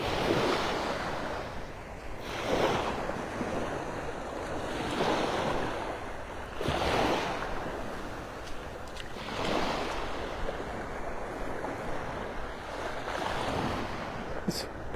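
Surf rolls in on Delnor-Wiggins beach in North Naples, Florida, with waves breaking in a steady rhythm about every two to three seconds over a constant wash of water and some wind noise, recorded while walking along the shore.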